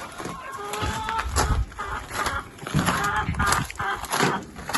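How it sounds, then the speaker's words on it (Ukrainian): Partridges cluck and chatter in a farmyard, a busy layer of bird calls over rustling background noise, with a few louder bursts and a faint voice. "куропатки на місці, куропатки несуться"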